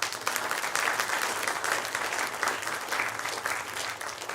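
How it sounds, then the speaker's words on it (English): A graduation audience at a mosque school ceremony applauds the principal, a full, steady wash of clapping from many hands that holds evenly before easing off slightly at the end. "Let's get a round of applause for the principal of Jafari School."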